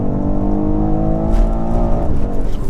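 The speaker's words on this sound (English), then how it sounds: "Just rev it out and just give it a nice pull." BMW X4M Competition engine revving hard under acceleration, a loud, steady, rising drone heard from inside the car that changes pitch near the end as the gear shifts.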